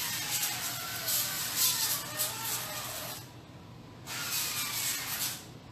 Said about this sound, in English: I'm going to spray them with a non-aerosol olive oil spray.